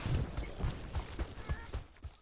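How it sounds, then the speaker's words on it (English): Footsteps in the video game Battlefield 6, a steady series of soft thudding steps at a walking pace, fairly close, with faint background game noise. "Is it weird that I really like the footstep sounds?"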